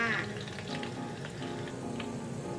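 Sweet potato pieces crackle and bubble in hot oil over high heat, a busy close sizzle with a few stirring knocks, no one speaking.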